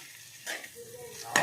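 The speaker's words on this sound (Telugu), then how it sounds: "ఇప్పుడు ఎగ్స్ మొత్తం కలిసేలాగా కలుపుకోవాలి" A spoon stirs ridge gourd and egg curry in a pan, making two short scraping strokes against the metal over a faint low sizzle.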